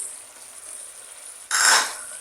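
Octopus sambal frying in a pan, a faint steady hiss that suddenly swells into a loud sizzling burst of stirring near the end, close and without talk.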